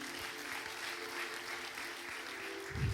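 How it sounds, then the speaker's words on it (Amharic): Faint, distant applause from a church congregation, a soft continuous patter of clapping over low room noise, with a brief low thump near the end. "አጨብጭቡ ለጌታ ክብር።"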